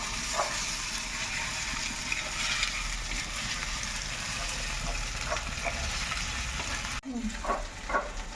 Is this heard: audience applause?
no